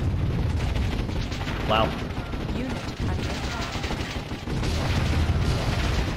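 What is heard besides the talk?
mortar fire and explosions in the video game Warzone 2100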